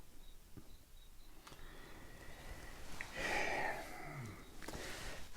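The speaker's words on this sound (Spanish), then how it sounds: "este sonido tan relajante de los grillos" Crickets chirp faintly and steadily in the background, with a thin repeating pulsed tone and a few soft rustles and knocks.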